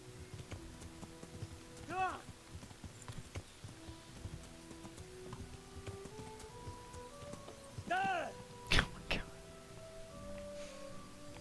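Horse hooves clip-clop in the medieval video game Kingdom Come: Deliverance, soft irregular steps under ambient game sound, with a couple of brief whinny-like tones.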